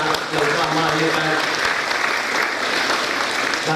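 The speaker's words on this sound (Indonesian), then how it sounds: "mari kita sama-sama memberikan tepuk tangan untuk anak-anak bangsa" Audience applause at the launch of Dharma Shift insecticide, a dense, steady round of clapping that holds at full strength from start to finish.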